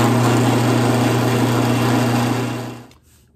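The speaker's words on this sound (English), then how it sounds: "that I'm gonna drill through with my 7/16 drill" A power drill with a 7/16 bit drills through a wooden plug for an industrial-style table lamp, a loud steady motor whine that winds down and stops near the end.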